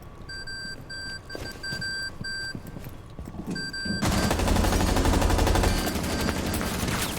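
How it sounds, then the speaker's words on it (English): Proximity alarms in a competitive shooter video game give repeated bright electronic beeps in short bursts, then dense continuous gunfire floods in and buries them. "why'd they put so many prox alarms here?"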